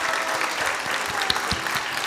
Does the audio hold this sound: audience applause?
yes